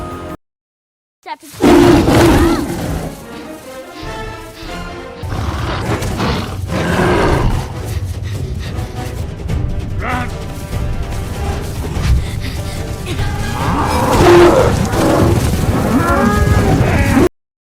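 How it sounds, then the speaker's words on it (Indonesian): A black panther and a tiger fight in a film scene, with loud, sustained roars and growls in a dense, dramatic soundtrack running nearly without pause after a brief silent opening. "Terjadilah pertarungan liar antara macan kumbang dan seekor harimau."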